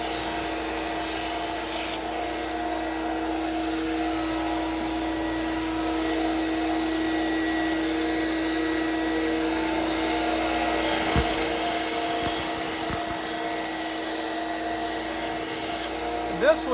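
A knife is sharpened on the slack part of a belt sander's belt, which raises a burr. A steady abrasive whir runs throughout with some rubbing grind, and the grinding grows louder and harsher near the end.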